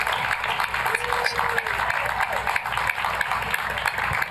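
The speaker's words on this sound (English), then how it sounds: "So a big round of applause for Riverhead Police Department." An audience at a town board work session gives a sustained round of applause for the Riverhead Police Department, a dense even patter of many hands heard alone for several seconds.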